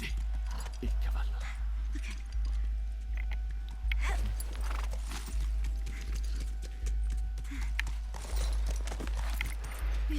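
Horse hooves clip-clopping in The Last of Us, a steady trotting rhythm of close, loud beats repeating through the whole stretch, with voices speaking over them at times.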